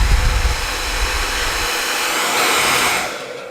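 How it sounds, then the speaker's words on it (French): A hair dryer blows continuously with a loud, steady whoosh and hum, the airflow shifting in tone partway through as it is moved, with no talking. "Elle va avoir peur du sèche-cheveux"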